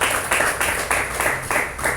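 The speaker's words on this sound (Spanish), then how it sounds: "Den un aplauso al Señor" A church congregation claps in unison, steady rhythmic beats repeating about every third of a second, loud and close.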